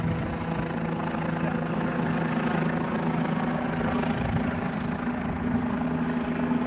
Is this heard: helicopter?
yes